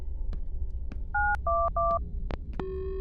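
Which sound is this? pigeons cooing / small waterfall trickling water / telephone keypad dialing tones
telephone keypad dialing tones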